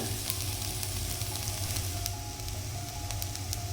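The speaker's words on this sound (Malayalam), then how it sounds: "ഇത്രയും സാധനങ്ങൾ ഇട്ടതിന് ശേഷം നന്നായിട്ട് വഴറ്റിയെടുക്കാം." Onion, ginger and green chilli paste sautéing in a pan for egg samosa filling, a steady close sizzle with a low hum underneath and a few sharper crackles, no talk.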